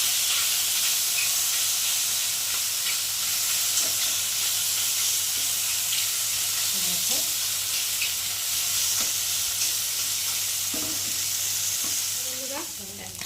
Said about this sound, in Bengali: এখন আমি মাছগুলোকে সেম ওইভাবে দিয়েই ভেজে নেব